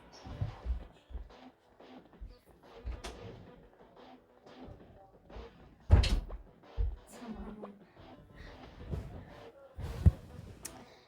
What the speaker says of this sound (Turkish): kapıyı açayım çünkü çıkmak istiyor arkadaşlar